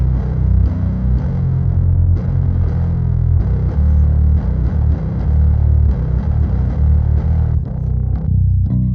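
A heavily distorted bass guitar, played through an iOS bass amp app, plays a thick, gritty riff with low notes that drone and repeat, loud and alone with no voices.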